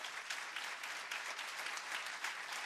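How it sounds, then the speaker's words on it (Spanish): A church congregation applauds steadily and evenly, a dense wash of clapping that holds at a moderate level from start to finish without letting up. "Fuerte, fuerte ese aplauso para nuestro Dios."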